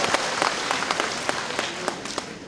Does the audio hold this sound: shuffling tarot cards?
no